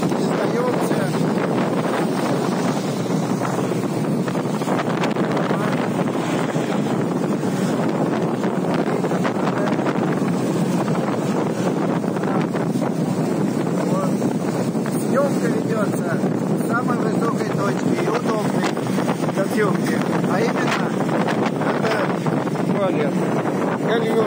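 A boat making a sea crossing to Puerto Galera through big waves, with strong wind buffeting the microphone in a constant loud roar and the rush of water throughout, no clear talk.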